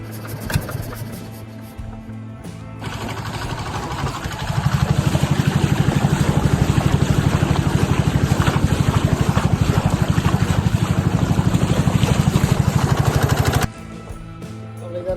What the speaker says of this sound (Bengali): আমরা কিন্তু জলে নেমে পড়েছি আর এখনই মেশিন স্টার্ট দিয়ে আমরা বেরিয়ে যাবো